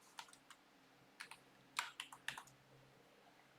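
Code being typed on a computer keyboard, close and quiet, with irregular clusters of crisp key clicks separated by short pauses.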